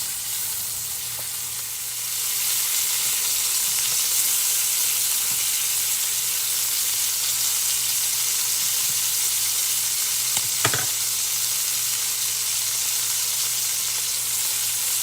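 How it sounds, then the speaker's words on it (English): Pieces of ham fry in oil in a pan, a loud continuous sizzle that swells after a quieter opening couple of seconds, with a sharp clink near the end. "I'm going to actually put a couple more pieces just to give me a little bit more oil in my pan off of that ham"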